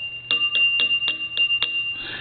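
An add-on bell in a converted Western Electric three-slot payphone rings in a quick run of about six sharp metallic strikes, close and clear, then a brief buzzing trill at the end.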